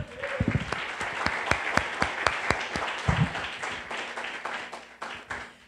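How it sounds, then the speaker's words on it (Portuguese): A church congregation at a Sunday service claps in a strong, even rhythm, sharp regular beats repeating for several seconds with a brief voice near the start. "Aplauda o Deus vivo então."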